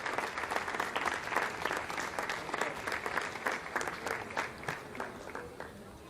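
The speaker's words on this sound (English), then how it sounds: "Lots of applause here in the Jupiter Control Centre." Sustained applause fills the Jupiter Control Centre after an Ariane 5 rocket launch carrying TIBA 1 and Inmarsat 5 F5 satellites, a dense room-wide clapping that gradually thins toward the end.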